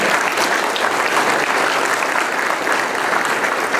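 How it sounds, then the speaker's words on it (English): Audience applause for panelists at a GIE+EXPO panel discussion, dense steady clapping from a room of people, loud and sustained throughout with no pauses. "I'd like everyone to give these panelists a round of applause."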